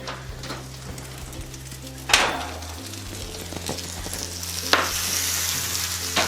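Taco flatbread sizzles and crackles steadily in a hot pan, a constant hiss with a few sharper clatters and pops along the way.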